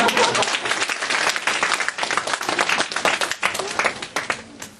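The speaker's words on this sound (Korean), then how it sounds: "박수 한번 쳐야 됩니다" Sustained, dense applause from a large audience at a church youth vision conference, steady rapid clapping filling the whole stretch with a faint voice in the background.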